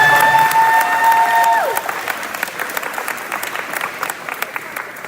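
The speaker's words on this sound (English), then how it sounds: "Let's give them a round of applause." Loud applause from the crowd at a school sports banquet, dense clapping with a tone fading out early, then thinning into scattered individual claps.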